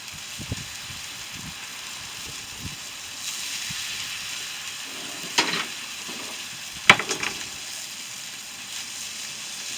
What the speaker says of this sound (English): So give that sizzle.